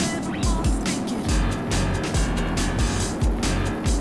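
A Cessna 172 engine at full throttle for takeoff gives a loud, steady, close drone with a regular low pulsing throb.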